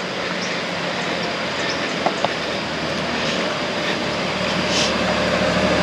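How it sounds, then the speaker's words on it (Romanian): A motorcycle passes on a quiet rural road in Peru, its engine a broad steady roar that stays fairly loud for several seconds and swells slightly toward the end, with no talking. "Ai, motocicletă."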